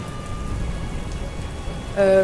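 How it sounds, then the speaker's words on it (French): Steady rain falling with a constant hiss throughout, joined near the end by a short tonal sound. "Elles sont toutes les deux trempées par cette pluie qui tombe."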